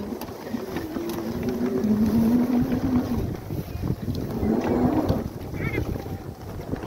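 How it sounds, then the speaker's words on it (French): Bafang BBSHD mid-drive e-bike motor running in low gears, a droning whine that rises and falls under strong wind rush, with people talking. "Le moteur pédalier sur les petites gears."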